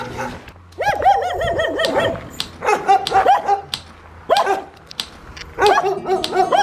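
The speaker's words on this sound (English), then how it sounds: "The dogs don't like me here." Several dogs bark loudly in repeated bursts in a village in Russia, close by, with brief pauses between volleys and no talking.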